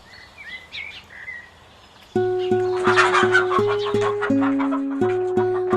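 Pet hen clucking and chirping softly at first, then joined by a loud tonal musical backing that plays over her, with the bird's calls continuing underneath.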